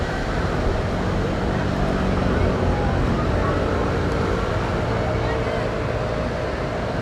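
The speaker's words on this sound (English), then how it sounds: "Apologies if you have a bit of traffic noises at the beginning." Steady, loud traffic roar from a big road in Marseille during a walk through the city, a continuous broadband rumble of passing vehicles with no pauses and no clear speech.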